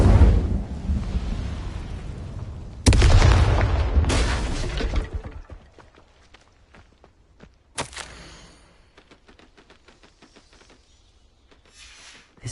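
An Incendio fire spell in Hogwarts Legacy bursts with a sudden loud whooshing blast, followed by a second flare of roaring fire that fades into quiet, scattered crackles and a few sharp pops.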